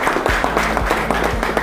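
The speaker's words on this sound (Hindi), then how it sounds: "जोरदार तालियों के साथ" An audience claps at a party-joining event, a brief burst of steady, moderately loud applause with scattered distinct hand claps and no talking over it.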